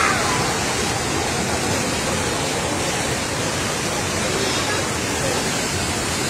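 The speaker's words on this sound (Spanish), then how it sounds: "Está potente el agua, compa." Floodwater rushes through streets in Zapopan with a loud, unbroken roar like a waterfall, filling the whole stretch at constant strength while a faint babble of voices sits underneath.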